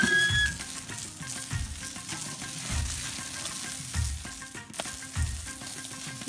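Steaks sizzle on a grill with a continuous crackling hiss and occasional louder pops and spits, close and steady, with no voices.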